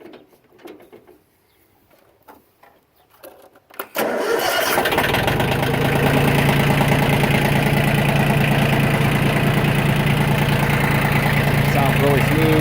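Used Yanmar FX17D compact diesel tractor with a loader bucket cranks over and catches, then settles into a loud, steady, even idle close by, with a few knocks and handling sounds before it starts.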